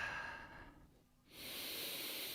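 A slow breath during a yoga session, a soft airy exhale that fades to near quiet and is followed by a steady inhale, close to the microphone with no talk.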